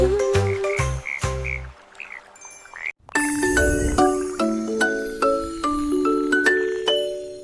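Cartoonish frog croaks sound in a children's song, several quick ribbits near the start, then bright chimes and a tinkling melody play on.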